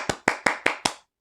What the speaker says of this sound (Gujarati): તાળી વગાડો.